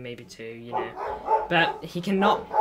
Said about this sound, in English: Apologies for my dog.